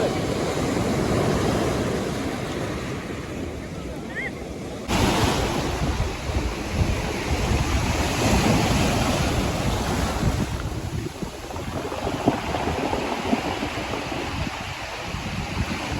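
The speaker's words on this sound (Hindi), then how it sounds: "देखिए कैसे कैसे इसकी लहरें आ रही है।" Ocean waves rolling and breaking on a beach in Goa, a continuous wash of surf with gusty wind buffeting the microphone, steady and fairly close with no voices.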